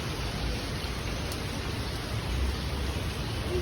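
Rain pours over a fresh market during a storm, a steady, dense hiss that fills the whole moment without any voices.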